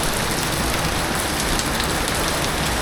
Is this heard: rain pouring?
yes